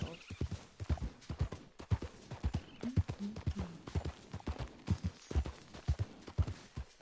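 Horse hooves clip-clopping in a steady rhythmic stride in Red Dead Redemption 2, close and fairly loud, with game sounds and a voice talking over the hoofbeats.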